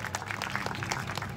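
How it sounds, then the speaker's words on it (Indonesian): Studio audience applauding at an Indonesian talk show with Muhaimin Iskandar, a short dense burst of clapping with faint voices mixed in. "Oke, tepuk tangan dulu"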